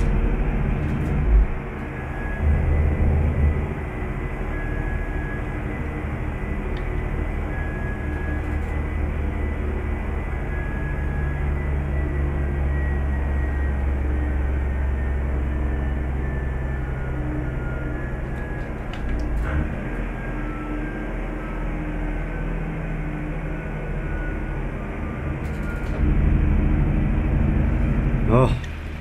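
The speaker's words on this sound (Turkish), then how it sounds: "Bu retarder sesi iyi geldi arkadaşlar." A Temsa Safir Plus bus in a driving simulator brakes with its retarder, a long steady low drone and rumble with a faint whine lasting the whole stretch, and someone talks over parts of it.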